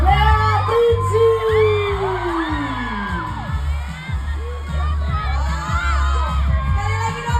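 A crowd at a Rangga & Cinta screening event whoops, yells and cheers over a busy mix with music underneath, sustained and fairly loud throughout; applause is not clearly separable from the shouting.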